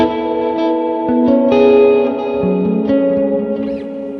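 Sustained guitar notes and chords ring through a spring reverb effect on a Quad Cortex guitar processor, with a slightly distorted tone and a lingering wash of echo.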